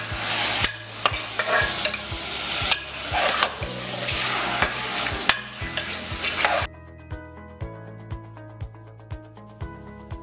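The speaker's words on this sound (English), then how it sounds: "Once the onion is cooked, add the mutton. Just saute it for 2 to 3 minutes." Mutton sautéed with cooked onion in a pan, a steady sizzle broken by repeated scraping and stirring strokes, louder for the first two-thirds and then quieter over a low hum.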